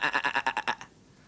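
A sheep bleats in a quick wavering series of about seven pulses, close and clear, then falls silent.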